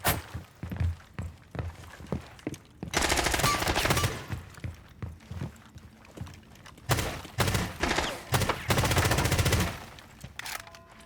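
Rapid bursts of automatic gunfire from Rainbow Six Siege, a wallbang spray with a long sustained volley around three seconds in and more near eight seconds, broken up by short single shots and choppy staccato pops, loud and close.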